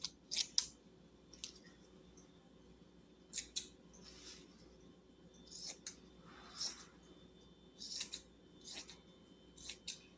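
Scissors cutting a piece of material for a lavender syrup container: several short, crisp snips come in uneven bursts, close up against a quiet background.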